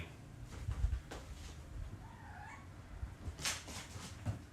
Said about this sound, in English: What are you kitties doing?